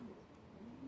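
A pigeon coos softly from inside an allotment shed, a low drawn-out call repeated briefly and heard close but faint.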